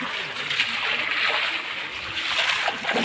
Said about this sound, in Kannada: ಆ ನೀರು ಫೋರ್ಸ್ಗೆ ಹಿಂಗೆ ಆಡ್ತಾಯಿದೆ ನೋಡಿ